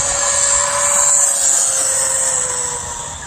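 A Rage RZX 1/6 scale 2WD 4s RC car drives past with a steady high-pitched electric motor whine, loud and close, fading slightly at the end.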